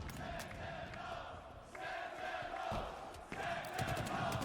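A large arena crowd roars and cheers through a Halo HCS Strongholds grand final in Kansas City, a steady dense swell with brief surges and dips over about four seconds.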